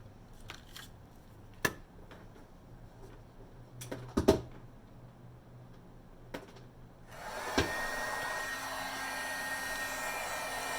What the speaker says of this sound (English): we can take our heat gun here and we can heat set it